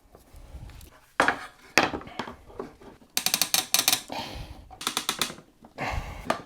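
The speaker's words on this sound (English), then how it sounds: "They're Phillips, so we need a Phillips screwdriver, and that's no harder than just lining those up." A Phillips screwdriver drives screws while assembling an INCRA Miter Express, producing close bursts of ratcheting clicks and scraping metal-on-wood squeaks separated by short pauses.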